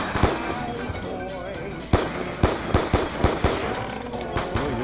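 Rapid gunfire in a Black Ops 2 Zombies match, a dense run of sharp loud shots in irregular bursts over continuous game noise and music.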